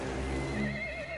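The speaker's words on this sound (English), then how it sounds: "There's another horse down there, by the way, in the water." A horse neighs in the video game Battlefield 1, a single loud, close whinny rising and wavering for about a second with no speech over it.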